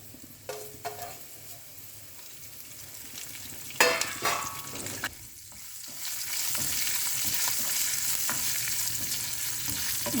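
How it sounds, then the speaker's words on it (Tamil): Curry leaves and dried red chillies sizzle in hot oil in a pan for a chicken dish, with a steady frying hiss that swells over the second half, broken by a few sharp crackles and spatters near the start. "இந்த கருவேப்பிலை கிறிஸ்பி ஆகிற வரைக்கும் தாளிச்சிக்கோங்க"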